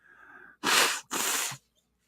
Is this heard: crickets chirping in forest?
no